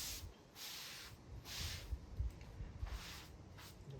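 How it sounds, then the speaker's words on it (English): Water rinsing cleaning product off rusty tiles, a soft hissing spray that comes in several bursts over steady low background noise. "I'm just going to rinse it off."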